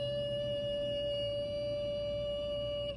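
A voice holding a sustained high-pitched E for about three seconds as a vocal exercise, a steady pure tone that stays fairly faint and unbroken.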